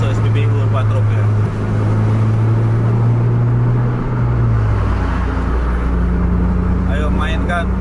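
A double-decker bus races along an open highway, its engine holding a loud steady drone that shifts pitch as it changes gear, with road noise throughout and a voice talking over it.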